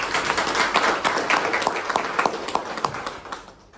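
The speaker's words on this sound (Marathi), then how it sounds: "या सगळ्यांसाठी एकदा जोरदार टाळ्या वाजवा" An audience at a leaders' event in Lonavala breaks into loud applause, a dense burst of many hands clapping that slowly thins and fades toward the end.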